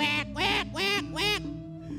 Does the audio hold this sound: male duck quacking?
yes